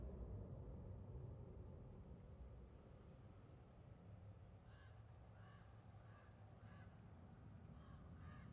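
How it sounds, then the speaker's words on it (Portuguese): Crows caw in the God of War game on PlayStation 5, a series of harsh calls in quick clusters rising over a low, steady rumble of background noise in the later half. "Corvo demais pra matar, mano."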